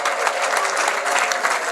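An audience claps continuously at a Rwandan cattle-praise poetry performance: dense, even applause from a crowd, filling the short moment with no voices above it.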